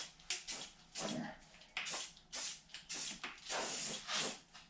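Short bursts of aerosol spray paint misting a light coat onto a 1961 Pontiac grill, close and hissing in repeated pulses of about half a second to a second, with brief pauses between.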